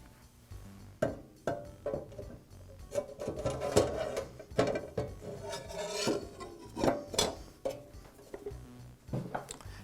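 Metal parts being handled as a blade, inner flange and washer are refitted on a DeWALT chop saw: a series of close, sharp clinks and scrapes with rubbing in between, no voices.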